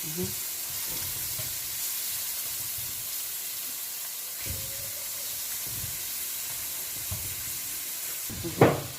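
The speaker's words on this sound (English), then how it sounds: "then your tomato paste straight into the pot. You stir. You just take your time to stir fry." Tomato paste stir-fries in a pot over onions for a homemade pizza sauce, giving a steady, even sizzling hiss with faint occasional stirring and a sharp clatter near the end.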